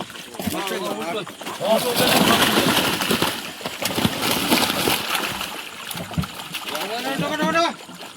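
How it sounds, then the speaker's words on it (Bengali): Fish, including catla of about a kilogram each, are released into a village pond, splashing loudly into the water at close range while several people talk and call out throughout. "জলে দাও ছেড়ে দাও"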